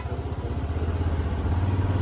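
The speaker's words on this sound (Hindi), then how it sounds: "हमारी बाइक जो है दंदनाट करती निकल रही है" Motorcycle engine putters steadily at low revs while edging through a long traffic jam on a highway before Sitapur, a close, even chugging rumble with no talk.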